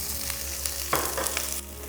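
Broccoli frying in oil in a dry pan, a continuous close sizzle with occasional crackles and a stirring clatter near the middle.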